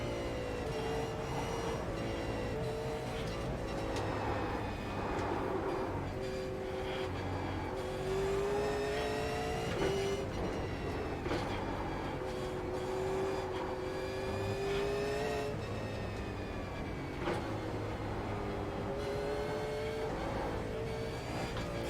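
A race car engine in the iRacing sim game revs and shifts through gears, with repeated rising whines that break off at each change, up close and continuous, mixed with road and tyre noise.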